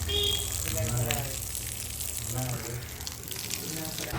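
Water splashes and sprays in bursts, sprinkled across dusty soil near a stallion while people talk nearby.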